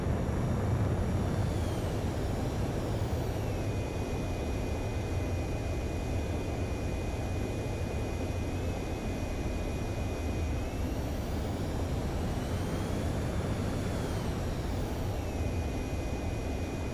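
Jet aircraft taking off in the combat flight game Ace Combat 7, a steady loud roaring engine wash with rising whine tones, continuous and close throughout, no talk over it.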